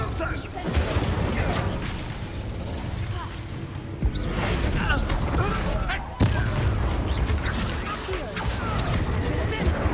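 Expulso explosion spells go off in the video game Hogwarts Legacy amid a busy fight, with sharp blasts near the 4- and 6-second marks over constant whooshes and crashes, while a voice talks over it.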